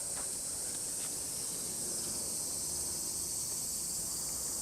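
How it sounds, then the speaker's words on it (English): A cicada in a tree drones with a loud, continuous high-pitched buzz that stays steady throughout, with no other sounds standing out. "this is a cicada"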